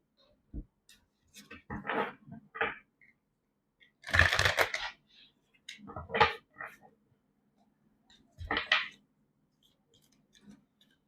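Tarot cards are shuffled by hand in close, quiet bursts of riffling and flicking, several short rustling clusters separated by silent gaps.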